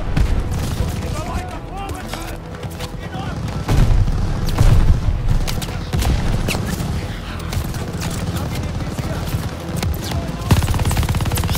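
Call of Duty Vanguard battle at El Alamein: dense, continuous gunfire with rapid machine-gun bursts and heavy booms fills the scene, loud and close, while voices shout over the shooting.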